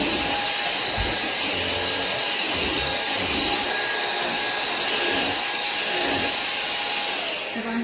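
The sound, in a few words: vacuum cleaner with rotating brush head cleaning a sofa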